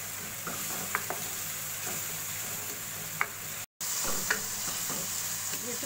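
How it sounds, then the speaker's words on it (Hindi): Boiled, peeled baby potatoes fry in masala in a pan, a steady close sizzle broken by scraping spoon strokes as they are stirred, with no talking. "अब हम इसको ज़रा सा भून कर इसमें ये मिनी आलू डाल देंगे"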